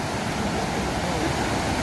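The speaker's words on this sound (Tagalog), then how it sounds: "Malakas yung alon." Rushing water and strong waves at Balanak Falls on the Magdalena River, a dense, constant roar of churning water filling the whole clip at close range.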